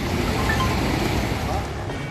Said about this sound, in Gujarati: મચ્છુ 2 ડેમના દરવાજા ખોલાતા જ ડેમમાંથી પુષ્કળ પ્રમાણમાં પાણી છૂટ્યું